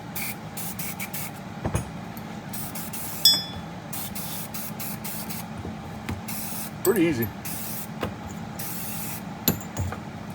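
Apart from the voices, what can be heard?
spraying gun oil onto an AR-10 PCW rifle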